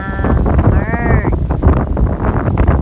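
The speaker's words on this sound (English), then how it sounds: "So windy." Strong wind gusts on Maui's North Shore buffet the microphone with a loud, continuous rumbling roar, while someone talks over it throughout.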